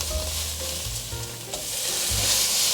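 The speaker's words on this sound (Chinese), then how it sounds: "豆腐放进来，快速的翻炒。" Tofu stir-frying quickly in a hot oiled pan with mushrooms, a loud continuous sizzle and hiss close by, with low scraping rumbles from the pan as it is tossed.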